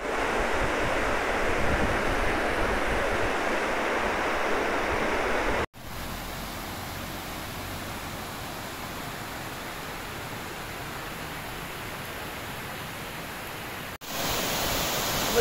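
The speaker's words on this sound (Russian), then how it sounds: "Водопад Камли или Кэмли." Kamli waterfall in Dalat roars as a steady, dense rush of falling water, loud and close throughout with no voices, broken by two brief dropouts.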